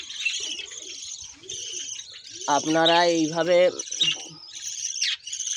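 A colony of budgerigars, including yellow, lutino and white chicks, keeps up steady high chirping and chatter throughout, while someone speaks over the birds partway through.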